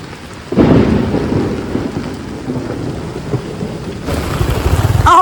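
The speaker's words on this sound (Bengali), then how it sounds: "ভয়ঙ্কর লেভেলে বৃষ্টি হইতেছে।" Heavy rain pours in a city street while thunder rumbles, a loud, dense downpour with a deep roll of thunder swelling near the end.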